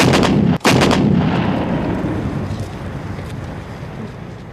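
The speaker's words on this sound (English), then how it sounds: "In one crucial assault, 100 guns concentrated their fire at one point, point 5140 in Tololing." Heavy artillery guns fire in the Kargil war at Tololing, Point 5140: a loud, close booming barrage with a sharp blast near the start, then a long rumbling roar that slowly fades.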